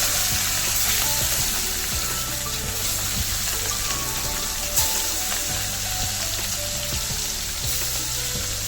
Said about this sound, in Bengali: তেলটা গরম হয়ে গেছে, এবার এই মাছগুলো ছেড়ে দেবো।